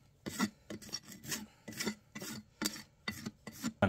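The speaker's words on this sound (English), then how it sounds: "If you set the rasp up against the hoof wall" A rasp files a draft horse's hoof wall in about nine rhythmic, evenly spaced rasping strokes, close and clear with no voices.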